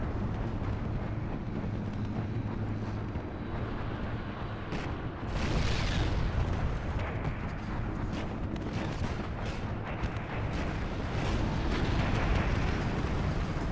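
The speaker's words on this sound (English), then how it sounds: "Poor little RHINO goes up in flames there" A Rhino tank goes up in flames amid heavy Warhammer 30K mod battle noise, a Sicaran Omega tank engaging, with a constant din of gunfire and artillery and a louder burst of blasts midway, no voices.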